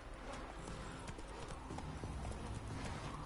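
Roach the horse's hoofbeats in The Witcher 3 Wild Hunt, a steady quiet clip-clop of hooves with faint background ambience.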